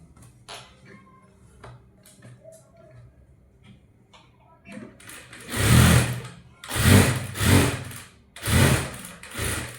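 A sewing machine stitches a princess cut blouse in several loud bursts of whirring in the second half, after a quieter stretch of soft handling noises and faint clicks.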